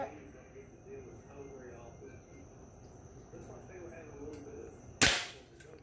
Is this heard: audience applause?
no